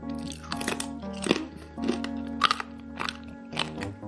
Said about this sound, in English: I'm gonna say they're edible if you like really crunchy things